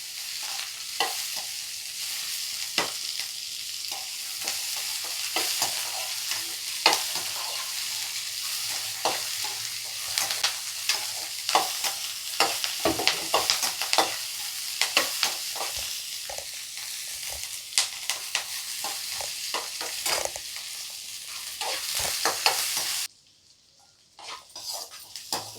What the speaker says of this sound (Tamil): வெங்காயம் நல்லா வதங்கி வரணுங்க. பொன்னரமாக வர்ற வரைக்கும் வெயிட் பண்ணிக்கோங்க.